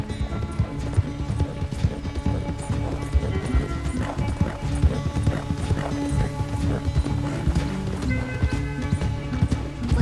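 Rapid horse hoofbeats in Red Dead Redemption 2 thud in a steady galloping rhythm, loud and continuous, with a brief whinny mixed into the busy clatter.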